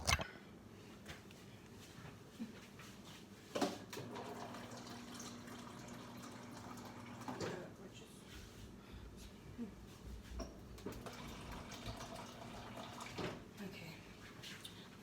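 Water pours from a tap to be collected, a steady close gush with occasional clunks and a faint hum beneath, running on without pause.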